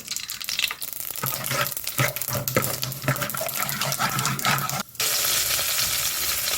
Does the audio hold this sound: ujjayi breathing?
no